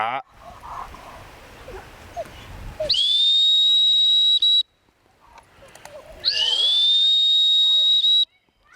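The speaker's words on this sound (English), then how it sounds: "did you notice my cadence in my whistle? I didn't blow her. That's a hunt whistle." Hunt whistle used while training a hunting dog: two long, steady, piercing blasts close by, each lasting a couple of seconds with a short gap between, after a stretch of quieter talk.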